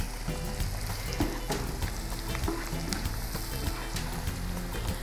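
Seasoning powder and a crushed stock cube being stirred into spaghetti jollof frying in a pot: a continuous close sizzle with repeated light scraping and clinking from the stirring utensil, and no talking.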